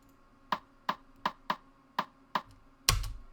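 A percussion sample plays a short fill of six sharp, evenly spaced clicky hits, then one heavier, fuller hit with a low thump at the end, all on its own with no voices.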